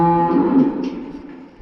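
A cow gives a single drawn-out moo close by in a calving shed housing older cows, loud and alone, fading toward the end.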